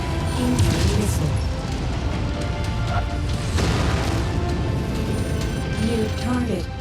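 Missiles explode in the MechWarrior video game, heavy booms and crashing blasts hitting in a rough series over constant low rumble, with brief synthetic radio tones chirping through the mix.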